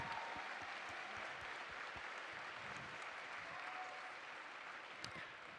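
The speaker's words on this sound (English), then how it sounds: "let's give her a huge round of applause" Audience at a children's camp closing ceremony applauding a volunteer, a dense, sustained clapping wash from a fairly distant crowd, steady and even throughout with no talking over it.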